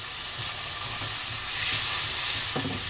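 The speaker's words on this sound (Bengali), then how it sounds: "একটু জল দিয়ে দিলাম যাতে মশলাটা না কড়াইতে লেগে যায়।" Spices sizzling hard in a wok after a splash of water, made for a bhetki fish khichuri, a dense, loud, continuous frying hiss heard up close with a brief stirring scrape near the end.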